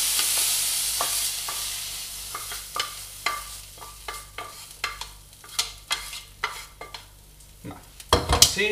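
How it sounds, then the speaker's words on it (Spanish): Nettles being stirred into beaten eggs with a little salt, for a nettle omelette: a run of irregular scraping and clinking strokes in a bowl, close and fairly loud, ending in a brisk burst of knocks, with no talking. "Y ahora la mezclaremos con los huevos"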